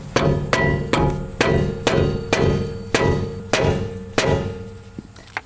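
A rubber hammer pounds a seized brake rotor on a BMW E84 X1 hub, about ten steady thudding strikes in an even rhythm, close and alone.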